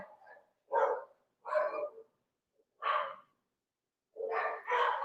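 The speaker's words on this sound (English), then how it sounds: "And they're all barking." Several dogs bark in short bursts outside an apartment while leaf blowers run nearby, with loud, repeated barks separated by brief pauses and no talking.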